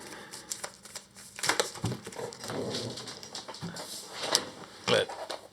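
A deck of Arkham Horror cards shuffled by hand at close range, with quick papery riffles and soft crinkling bursts that come in uneven clusters.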